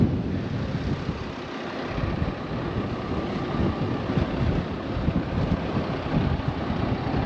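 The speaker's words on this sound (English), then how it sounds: "It is very windy out here, so hopefully the audio is fine" Wind gusts buffet the microphone in an open farm field during ploughing for kale and spring barley, a steady broadband roar that rises and falls with low rumbling thumps throughout, with no talking.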